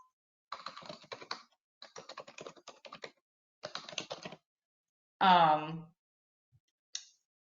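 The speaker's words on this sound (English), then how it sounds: "let me type that one in as well" A computer keyboard is typed on in three short bursts of quick clicking, separated by pauses. A brief breathy vocal sound follows, then a final tap.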